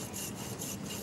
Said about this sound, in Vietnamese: chủ của nó buộc phải cưa bớt một phần ngà dài khoảng 18cm